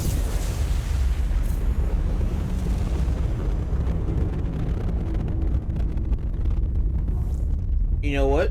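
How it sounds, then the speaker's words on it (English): A nuclear detonation in Mass Effect 2 Legendary Edition roars as a dense, sustained low rumble for the whole stretch, with wind-like noise over it and a thin rising tone near the end. "Apologies for the sound of the nuke going off"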